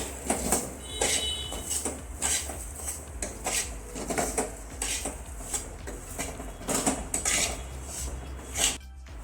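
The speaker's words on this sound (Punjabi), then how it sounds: "ਇਹਨੂੰ ਵੀ ਨਾਲ ਹੀ ਭੁੰਨਾਂਗੇ ਤੇ ਇੱਥੇ ਲਈ ਸੀ ਆਪਾਂ ਖੰਡ ਹੁਣ ਸਾਰੀਆਂ ਚੀਜ਼ਾਂ ਮਿਕਸ ਕਰ ਦਵਾਂਗੇ" Panjiri ingredients being mixed with sugar and coconut in a pan, heard as repeated scraping and clinking of a utensil against cookware in an irregular rhythm, fairly close and moderately loud, with no talking.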